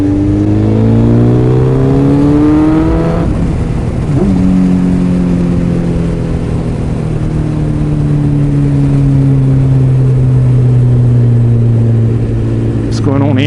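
A motorcycle engine hums steadily while riding, its pitch rising and shifting as it changes gears, loud and close with a constant roar of wind behind it.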